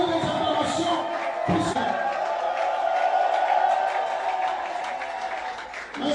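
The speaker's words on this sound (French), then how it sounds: "Continuez les acclamations" A large crowd applauds and cheers at a rally for Jean-Pierre Bemba, a dense, steady roar of clapping and voices lasting throughout and fading slightly at the end.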